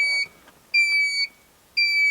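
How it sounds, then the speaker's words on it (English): Loud electronic beeping from a solar inverter's dead-battery alarm in an off-grid solar power install, three sustained high-pitched tones about half a second each, separated by short pauses, with no talking over them. "I think it's just a dead battery alarm"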